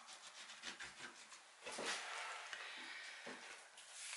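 Paper is rubbed by hand over a Gelli printing plate with a stencil, giving soft, close, repeated rubbing strokes at first, then a steadier sustained scuffing rub, quiet overall.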